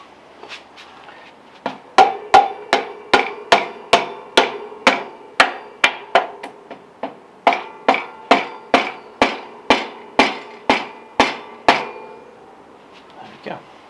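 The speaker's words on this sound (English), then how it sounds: "That's where you do need your rubber hammer." Rubber hammer striking bike components on a gravel bike being upgraded to Shimano GRX, a rapid run of about twenty sharp, evenly spaced blows with a brief pause midway, close and loud in a quiet room.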